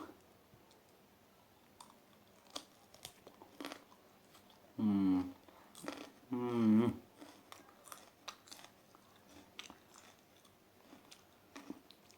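A hot pepper is bitten and chewed in two short bursts of crunching near the middle, close and loud against a quiet room, with a person humming softly and faint clicks around it.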